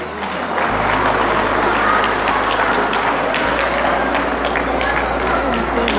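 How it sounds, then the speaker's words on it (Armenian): Applause greets a couple arriving at an Armenian wedding: a dense, continuous crowd clapping carries on throughout, mixed with a steady low drone and some crowd noise. "գալիս են էլի ծափերով"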